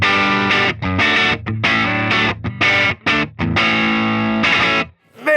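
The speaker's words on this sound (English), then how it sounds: "I got this Revstar Pro with the tone-specific rock pickups going into a 1965 Fender Deluxe sinusoid cable." Distorted electric guitar from a Yamaha Revstar Pro with rock pickups played through a 1965 Fender Deluxe amp, loud chord strums and riffs with short gaps, ending on a ringing fade.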